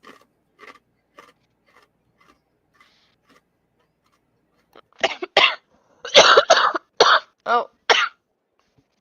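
A person eating pizza-flavored cheese chips from Costco gives a fit of loud, close coughs, about eight sharp bursts in quick succession, after several faint crunchy ticks.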